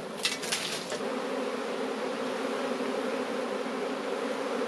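A honeybee swarm clustered on a branch at night hums in a dense, steady drone, moderately faint and continuous, with a few brief rustling clicks at the start and no voices.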